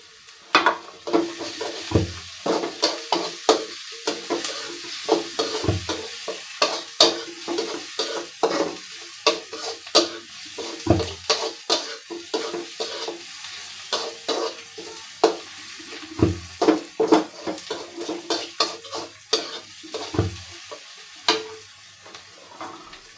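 Onions frying with salt in a pan, a steady soft sizzle broken by repeated scraping clicks of stirring, close and fairly quiet, with no talk.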